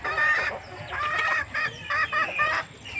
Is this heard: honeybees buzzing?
no